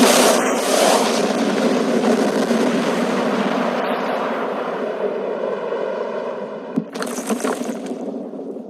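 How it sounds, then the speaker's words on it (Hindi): A loud, sustained broadband roar rumbles throughout, with a sharp crack near the end as the blast noise slowly fades. "ये एक असली धमाका है"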